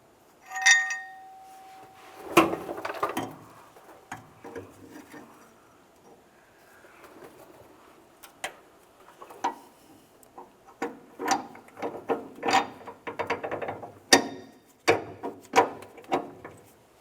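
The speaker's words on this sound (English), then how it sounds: "Take that mounting bolt, bring it up and over the frame, start sliding it through the shackle, through the leaf spring, and then right out the other side of the shackle." Metal clinks, scrapes and ratcheting clicks as a mounting bolt is slid through the leaf spring shackle on a 1994-2002 Dodge Ram 2500, scattered knocks coming in irregular bursts, close by.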